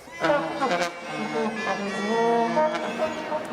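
Several buzzy, reedy medieval instruments, such as the serpent, racket, crumhorn and sackbut, play together in a thick, clashing blend of sustained notes, loud and close, with no talking.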